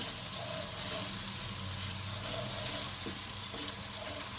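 Steady sizzling and crackling of finely chopped onion frying in a pan, continuous and fairly loud, with faint clinks now and then.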